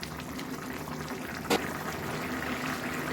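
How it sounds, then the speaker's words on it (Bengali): A pot of Bhola fish curry gravy with potatoes bubbling at a steady boil, a soft continuous simmering burble close by with one brief knock partway through. "ঝোলটা ফুটে উঠেছে, মানে আলুটাও সেদ্ধ হয়ে গেছে।"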